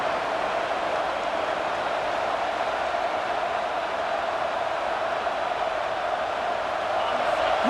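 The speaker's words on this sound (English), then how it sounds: "Listen to the crowd energy here in the early going." A dense, steady roar of a large stadium crowd in the College Football 26 video game, LSU vs South Carolina, fills the space evenly, without distinct cheers or breaks.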